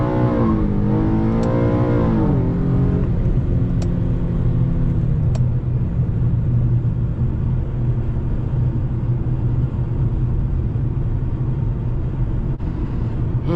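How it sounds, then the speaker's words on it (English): Infiniti G37S engine revving hard toward redline during a drive on country roads, a loud continuous in-cabin roar with rising pitch early on, then sustained high-rpm drone. "It's better for this car to redline."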